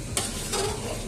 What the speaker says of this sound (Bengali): এবারে আমি এই ফোড়নটা পুরোটা মিশিয়ে নেব